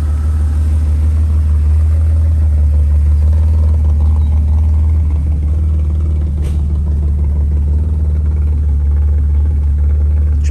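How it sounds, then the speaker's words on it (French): A car engine idles with a tiny exhaust air leak, a loud, steady, deep rumble with faint ticking clatter layered on top, continuous and close throughout. "Je pense que tu dois avoir une toute petite prise d'air à l'échappement."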